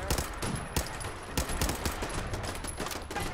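Machine gun turrets fire a dense, continuous hail of automatic gunfire in the video game Fallout 4. The bursts are loud and overlapping, and no talk is heard over them.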